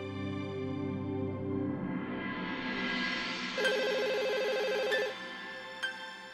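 A telephone is dialed during a Hindi family drama, with a rising tone sweep giving way to a steady electronic ringing tone and a couple of brief beeps, fairly quiet and without talk.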